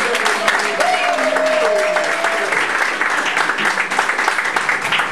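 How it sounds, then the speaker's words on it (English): Sustained audience applause and cheering for comedian Mike Jacobs at the Laugh Lounge comedy club, a dense wash of clapping with whoops and a brief sustained shout on top, steady and loud throughout. "Start clapping and making noise for Mike Jacobs."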